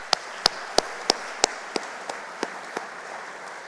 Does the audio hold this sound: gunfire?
no